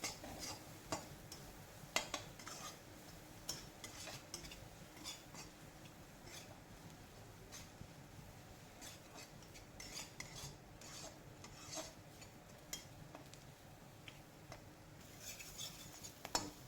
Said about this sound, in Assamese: অকণমান ৰং গুড়ি হালধি গুড়ি দিছোঁ এতিয়া ইয়াক ভালদৰে মিহলাই লওঁ